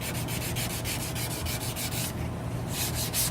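Abrasive paper is rubbed back and forth on a wooden chef knife handle, giving rhythmic, fairly close scratchy strokes with a brief pause near the end and no talking.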